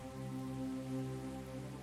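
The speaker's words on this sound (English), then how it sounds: "Because it's raining." Rain falls in the factory-building video game Captain of Industry as a soft, steady patter, faint and continuous, blended with a low tonal hum and no speech.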